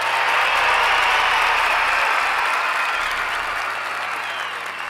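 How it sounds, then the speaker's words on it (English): A recorded burst of crowd cheering and clapping plays from the Mycroft voice assistant, a dense steady roar of applause filling the whole span and fading slightly toward the end. "Give us a cheer."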